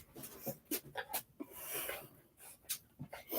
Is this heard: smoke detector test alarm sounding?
no